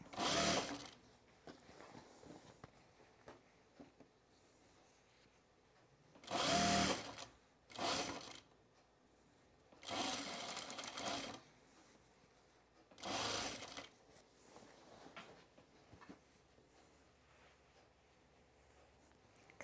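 A sewing machine topstitches a jacket's facing and hem, running in four or five separate bursts of steady mechanical whirring, each a second or two long, with quiet pauses between them.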